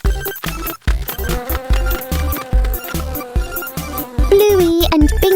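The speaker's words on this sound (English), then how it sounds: "Suddenly, the bees fly out." A swarm of bees flies out of a beehive hanging on a tree, a buzzy insect drone rendered in cartoon style, pulsing in choppy bursts over bouncy music, loud and close.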